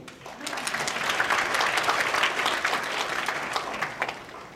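A conference audience at a 2014 Pan Pacific climate change adaptation meeting applauds to welcome the chair, Dr. Joanna Lei. The clapping swells quickly into a brief, full burst of moderately loud applause.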